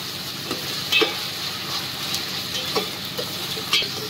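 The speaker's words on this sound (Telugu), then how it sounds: "మంచిగా ఫ్రై కావాలి." Onion and ginger paste frying in a pan, with a soft steady sizzle and occasional scraping clicks from stirring, close by and without speech.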